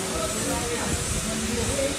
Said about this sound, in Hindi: ये ब्लोअर सिस्टम है